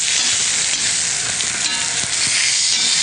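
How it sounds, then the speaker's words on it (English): Lamb searing loudly in a hot frying pan as it is flipped, a dense, steady sizzle with small crackles and bursts of spitting oil, close up and with no talking. "So I'm gonna flip over my lamb."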